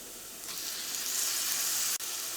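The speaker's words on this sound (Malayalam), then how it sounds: "ഈ മുളകും നന്നായിട്ട് മുരിഞ്ഞിട്ടുണ്ട് ഇതിലേക്ക് നമുക്ക് തക്കാളി ചേർക്കാം" Tomatoes with chili sizzle in hot coconut oil, a steady close frying hiss that swells as they hit the pan, with a brief dip near the end.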